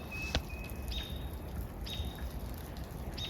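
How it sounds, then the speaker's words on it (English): A lone small bird gives a few thin, high cheeps spaced about a second apart, faint and distant against a quiet outdoor background. "Just that single cheep sound."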